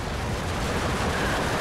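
Sustained rumbling battlefield noise of gunfire and artillery in the WW2 real-time strategy game Steel Division 2, a steady, heavy roar of distant shots and blasts with no distinct individual bangs.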